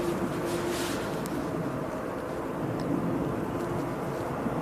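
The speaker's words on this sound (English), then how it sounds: "I can hear a plane further up" A plane passes high overhead near Manchester Airport, a steady, distant broadband roar that holds at a fairly even level throughout with no voices over it.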